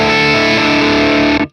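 Electric guitar through the booster side of a Rodenberg pedal on a Hotone Ampero Stage II pedalboard, one sustained loud crunchy chord ringing for about a second and a half before stopping sharply.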